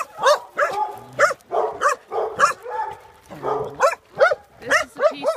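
Shelter dogs in a fenced outdoor run bark in quick repeated bursts, with several nearby dogs yapping and whimpering in an uneven rhythm, loud and close, with some talking mixed in.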